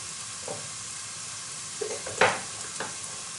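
Onion and bell pepper cook in a pan under a soft, steady sizzle, with a few sharper stirring scrapes and knocks near the end. No one speaks.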